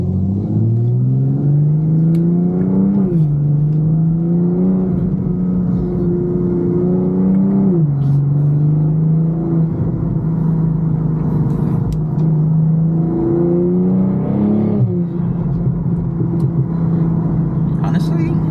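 BMW car engine revs continuously on a track lap, loud and close, with rising and falling pitch sweeps as it accelerates and shifts through gears over a steady in-car drone.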